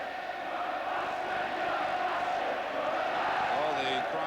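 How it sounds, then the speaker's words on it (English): Ipswich Town home supporters roar and chant at a 1980 First Division match against Manchester United, a steady, dense wall of crowd noise swelling slightly toward the end with faint voices on top. "the cries of the Ipswich crowd much stronger than the Manchester United contingent"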